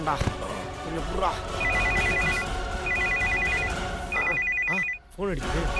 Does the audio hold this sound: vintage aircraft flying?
no